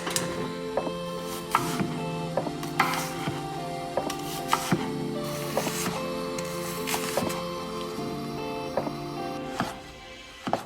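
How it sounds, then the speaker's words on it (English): A knife taps rhythmically on a cutting board chopping onion and garlic, quick repeated chops over soft background music. "I will start by chopping my onion and my garlic"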